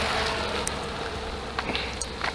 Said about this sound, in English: God, these bugs.